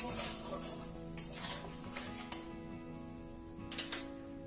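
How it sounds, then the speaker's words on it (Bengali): Hilsa fish curry with cumin paste being sautéed in a pan, a spatula stirring and scraping against the metal with a soft sizzle underneath, steady and close with a few sharper clinks, no talking. "এবার এটাকে ভালো করে কষিয়ে নেব।"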